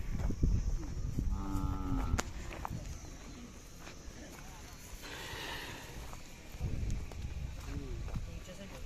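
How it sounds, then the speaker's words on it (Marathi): Khillar bulls low once or twice amid a busy outdoor crowd at a village fair cattle market, with shuffling hooves and murmuring voices throughout. "अशा प्रकारचे बैल आहेत"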